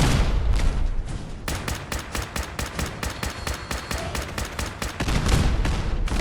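Rapid bursts of converted carbine gunfire in Fallout 4, a fast run of sharp, evenly spaced shots fired close and loud over continuous game background noise.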